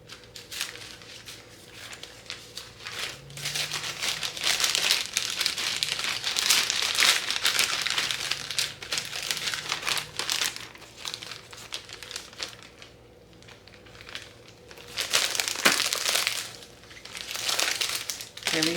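Parchment paper crinkles and rustles steadily while French toast slices are wrapped and folded in a home kitchen, close and continuous with brief pauses.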